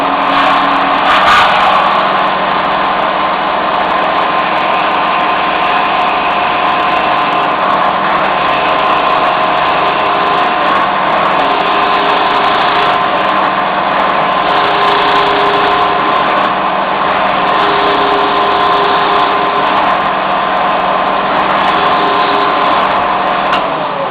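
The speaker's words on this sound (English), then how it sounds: "Now here we go, horizontal boring." A horizontal boring machine drills dowel holes in a wooden folding table, giving a loud, steady motor whine that runs continuously without a break.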